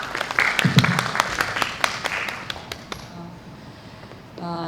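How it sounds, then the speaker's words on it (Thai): A small audience at a film festival masterclass in Pattaya claps for director Shin Su-won. Crisp separate claps start fairly close, thin out and stop after about three seconds, then a voice begins speaking. "ขอเสียงปรบมือให้กับคุณชินซูวอนครับ"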